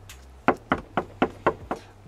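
Police pound on a door with six firm, steady knocks, close and loud, over a faint low hum, with no talking.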